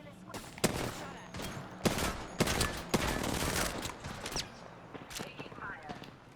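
Rapid gunfire in the Apex Legends video game: dense bursts of shots and impacts over a busy, noisy mix, with voices speaking beneath the firing.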